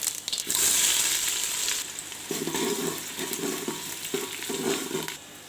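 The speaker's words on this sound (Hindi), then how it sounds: "जब घी गर्म हो गया है तो अब हम इस पे डालेंगे ज़ीरा और कटे हुए प्याज" Cumin seeds and chopped onions hitting hot ghee and oil, a loud hiss at first, then a steady frying sizzle broken by rhythmic stirring scrapes, close and with no voices.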